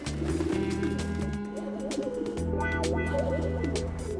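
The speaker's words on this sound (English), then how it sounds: "our dynamic duo have to land some pigeons" Pigeons coo from a flock gathered near a truck, soft throaty calls rising over a steady low musical drone that fills the whole stretch.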